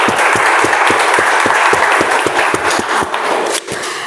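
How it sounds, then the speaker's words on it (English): Audience applauding a speaker at a Toastmasters meeting: steady, dense clapping from a small indoor group that holds for about four seconds, with a few sharper individual claps standing out near the end. "But overall, a round of applause for Toastmaster Akshay as speaker."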